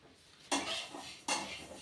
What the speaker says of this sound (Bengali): মুগ ডালটা ভাজা করছি